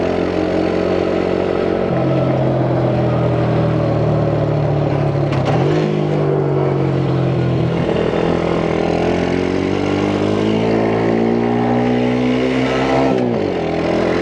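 A 90cc Chinese quad bike engine revs up through the top of second gear, a loud, close buzzing drone whose pitch climbs, dips at a shift, then rises again before dropping back as the RPMs fall.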